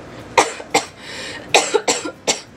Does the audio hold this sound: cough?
yes